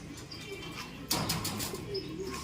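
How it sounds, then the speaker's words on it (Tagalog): Racing pigeons cooing softly as they come into the loft after a race, faint and close, with a brief flutter of wings partway through and light ambient noise around. "naklak na natin yung tatlo nating ibon, si Palawi at saka si Banlon 73"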